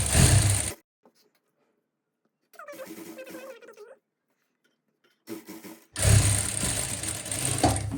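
A sewing machine stitching a cuffed sleeve on a suit, whirring in bursts: a run that stops, two shorter softer stretches, then a loud steady run again, close and without talk.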